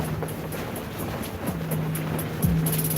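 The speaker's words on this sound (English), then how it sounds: "It's windy." Strong wind blows outdoors on a cool day of about 54 degrees, making a steady broadband rush with a faint tonal hum underneath.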